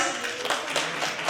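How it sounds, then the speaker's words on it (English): A brief burst of audience clapping at a social work conference, welcoming a university delegation, scattered hand claps blending into a soft, short round of applause. "A huge round of applause"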